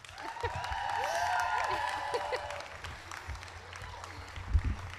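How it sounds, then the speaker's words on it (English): An audience at an adult school LVN graduation ceremony applauds a retiring instructor, with broad, fairly loud clapping that swells, then fades after about three seconds into room noise, a few thumps and scattered voices. "Let's give her a round of applause."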